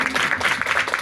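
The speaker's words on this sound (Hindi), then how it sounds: "तो जोर से एक बार ताली बजाएंगे" A church audience at a testimony bursts into brief, lively clapping, a short, close burst of many hands.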